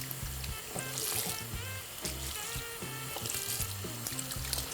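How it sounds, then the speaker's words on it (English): A running tap splashes and trickles steadily as hair extensions are rinsed under cold to lukewarm water at a sink, a soft, continuous wet patter with faint music in the background. "So we're gonna rinse in cold or like lukewarm water."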